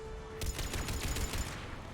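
Turret gunfire in the video game Mass Effect, a rapid burst of loud automatic shots over about a second amid dense background game noise.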